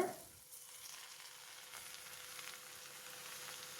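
Cowpeas and drumstick leaves sizzling and frying in a pan while being stirred, a steady soft hiss close by with faint scraping.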